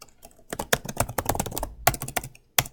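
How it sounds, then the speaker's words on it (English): Keys clatter on a computer keyboard in a quick, uneven burst of close taps, with a short pause before a final keystroke. "we're going to type in AP Physics"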